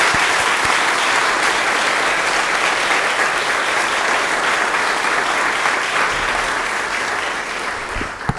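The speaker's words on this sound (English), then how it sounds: "So I think we should all give them a round of applause." Loud, steady applause from an audience at a city employee awards ceremony, dense clapping that holds throughout and only tapers slightly at the end.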